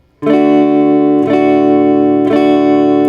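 Three loud guitar chords strummed about a second apart, each ringing out fully before the next, close and clear with no voices.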